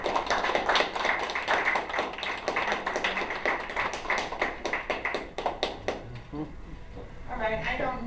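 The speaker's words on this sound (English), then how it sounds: "That's a big applause" An audience at a Tea Party meeting gives a big round of applause, with dense clapping that slowly thins into scattered claps. Faint voices rise at the end.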